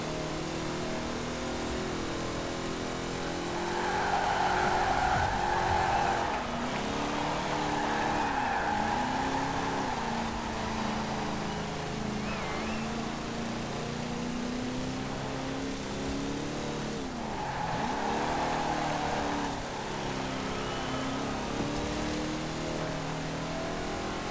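A classic 1960s–70s Ford Mustang races through a city championship event in Forza Horizon 4, its engine droning continuously with rising and falling revs and occasional tire squeal, steady and loud throughout.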